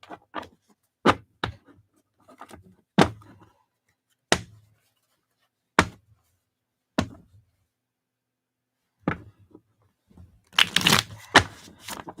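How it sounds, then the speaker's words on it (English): Crisp, isolated riffles and snaps of cards being shuffled, separated by silences, ending in a longer dense bridging rush. "Your shuffle is very specific."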